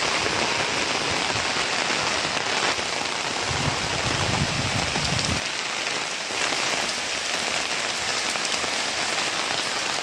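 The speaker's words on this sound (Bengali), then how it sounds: "এই যে বৃষ্টি সব ডুবে গেছে দেখতেছি" Heavy rain pours steadily onto surfaces at a flooded housing settlement, a dense, loud, unbroken hiss of drops with no voices.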